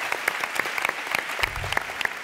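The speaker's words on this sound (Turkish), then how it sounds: "Bir alkış daha alalım abimize." A studio audience on a Turkish talk show claps steadily, dense overlapping hand claps filling the room at a lively, even level with no voices over it.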